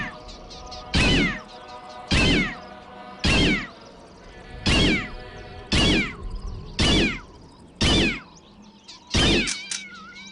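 A cat in the game Postal 2 meows eight times at a steady pace, each cry loud, sharp and close, with faint background sound between them and no talking.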